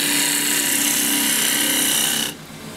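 A woodturning gouge cuts a red cedar bowl spinning on a lathe, making a loud, steady, close rasping hiss that stops abruptly near the end, leaving a quieter hum.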